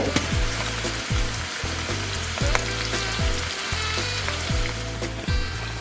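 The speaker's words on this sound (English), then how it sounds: "here with our green peppers. And our celery. We're going to let those get good to saute and soften up." Green peppers and celery sauté in a hot pan with a steady, loud, dense sizzle, broken every second or so by the scrape and clack of a utensil stirring the vegetables; no voices.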